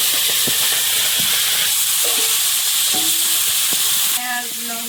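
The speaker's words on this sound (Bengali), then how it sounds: "এখনো ভাজা চলছে" Bhetki fish frying in hot oil in a wok in a Sundarbans home kitchen, a steady loud sizzle and hiss with occasional stirring clatter.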